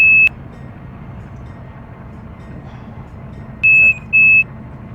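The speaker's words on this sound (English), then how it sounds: "That's the alarm to let me know" Train cab alarm in the Run 8 train simulator game, a loud steady electronic beep sounding once briefly, then twice more in quick succession over quiet low cab hum.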